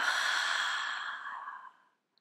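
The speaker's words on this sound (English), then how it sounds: "You can exhale through your mouth to feel more that exhalation" A single long exhale through the mouth during a yoga breathing exercise, soft and breathy, fading out over about two seconds with no talk.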